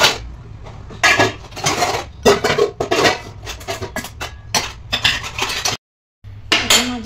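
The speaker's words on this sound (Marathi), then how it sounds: "तोपर्यंत ही भांडी लावून घेऊया" Cooking pots and dishes are set out in a home kitchen, a close run of clanks, clinks and scrapes of metal vessels knocking together in quick bursts, with a brief pause near the end before more clatter.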